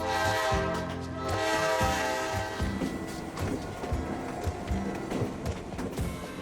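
A Blue Ridge Scenic Railway train rumbles and clatters along the rails while a long, loud horn blares over it, the rolling noise continuing steadily throughout.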